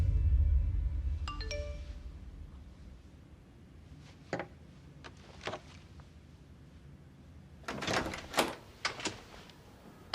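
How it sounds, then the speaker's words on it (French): A doorbell chime rings in a quiet indoor space, with a soft multi-tone ding near the start followed by a few scattered knocks and door clatters. "Alors j'ai une sonnette."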